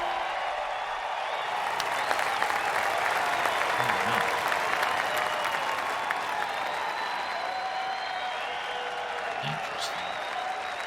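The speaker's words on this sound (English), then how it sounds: "Crowd's pumped." Virtual golf crowd in PGA Tour 2K23 at Horseshoe Valley Stadium, a steady roar of applause and cheering that runs loud and unbroken throughout.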